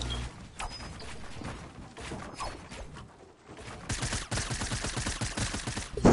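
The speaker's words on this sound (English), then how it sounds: "Spamming your SMG." Rapid SMG gunfire in a video game rattles in dense bursts, continuous and close, growing heavier and faster in the second half with no talk over it.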